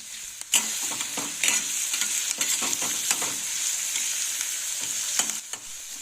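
Onions sautéing in a pan for Mumbai street-style masala pav, a steady close sizzle with scattered scraping stirs and clinks of a spatula, no talking.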